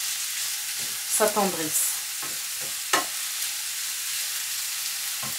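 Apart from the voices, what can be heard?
bell pepper sautéing in a pan over medium heat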